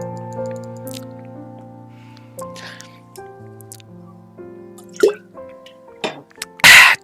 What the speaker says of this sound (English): Take another swig of water,